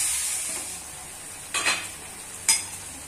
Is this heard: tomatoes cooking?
yes